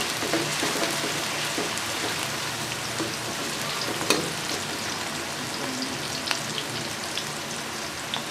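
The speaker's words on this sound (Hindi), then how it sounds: "प्याज को अच्छे तरीके से फ्राई करेंगे।" Onions frying in a pan for a cabbage and potato dish, a dense continuous sizzle and crackle with occasional stirring clinks, close and steady throughout without talk.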